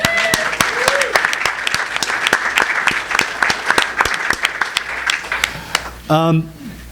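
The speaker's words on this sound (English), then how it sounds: "everyone deserves a round of applause, so let's hear it" Audience applause at an ecosocialism conference opening plenary: scattered, fairly sparse claps with distinct individual hand strikes, fading before a voice starts speaking at the end.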